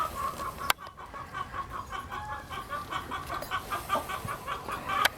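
Large golden roosters cluck repeatedly and fairly close, a busy run of short calls over faint outdoor background with a couple of sharp knocks.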